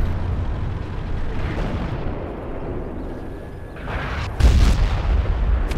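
Tank cannon fire in a World of Tanks–style game featuring a T57, a rumbling battlefield bed broken near the end by one loud, close, deep boom that trails into low rumble.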